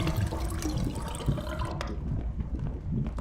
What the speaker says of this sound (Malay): Ew, why you flush the toilet?